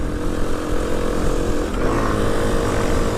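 A 125cc Australian posty bike, a Honda Cub 90, rides along country lanes, its small single-cylinder engine droning steadily and close, with a slight shift in pitch partway through.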